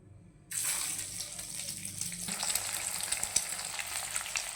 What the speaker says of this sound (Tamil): நம்ம ரெடி பண்ணி வச்ச மசாலாவில் இதை டோஸ்ட் பண்ணி எடுத்துக்கலாம்